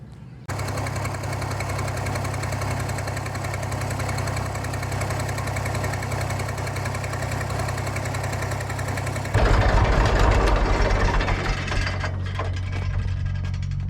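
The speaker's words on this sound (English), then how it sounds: "I think the people will get a kick out of the antique tractor pulling the hay wagons today" A restored Massey Ferguson 35 diesel tractor engine idles steadily and close by, with a throbbing, knocking low rumble. Partway through it grows louder and rougher as the tractor works pulling hay wagons.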